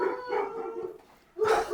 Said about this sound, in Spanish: Son los perros.